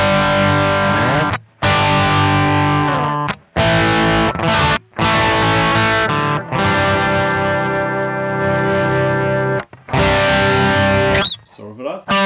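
Distorted electric guitar through a Kemper amp profile, sustained chords and riffs with thick saturated tone and brief pauses, loud and present with effects coloring the sound.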